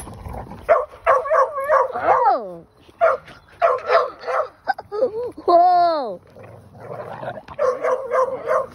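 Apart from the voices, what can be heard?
dogs barking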